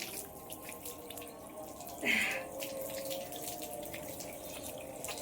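Tap water runs into a sink for washing, a steady wash of splashing flow throughout with one brief louder gush partway through.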